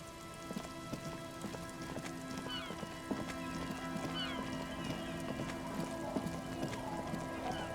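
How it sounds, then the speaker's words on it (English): Steady rain patters across the whole stretch in the Disco Elysium video game, with constant close dripping and splashing on surfaces and scattered brighter drops, no talk. "It's getting late, and it's raining."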